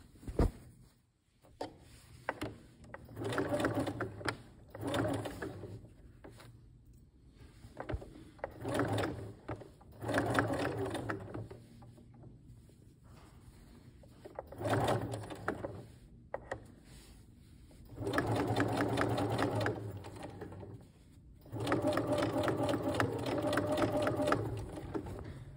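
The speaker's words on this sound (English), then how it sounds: "backstitch at the end of this to lock them in" A sewing machine stitches and backstitches a cloth pad in several bursts of fast mechanical whirring, separated by pauses with small handling clicks.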